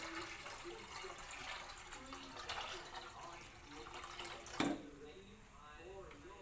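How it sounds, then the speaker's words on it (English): Fresh water pours steadily into a cooking pot for pork kare-kare in a home kitchen, a continuous close splashing wash that swells briefly near the end, with faint talk underneath. "So now we have to put water, fresh water."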